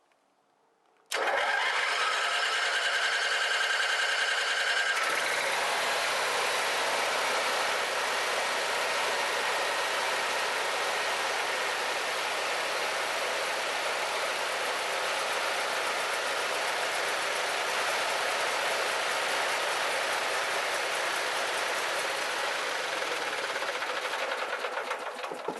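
A faulty portable generator starts abruptly after a moment of quiet and then runs at a loud, steady roar for about twenty-five seconds, close by and without speech.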